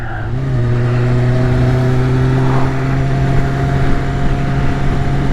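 A 2001 Kawasaki Ninja ZX-6R sport bike rides along, its engine a loud, steady, buzzing drone that climbs slightly in pitch at the start and then holds, with rushing wind noise close around it.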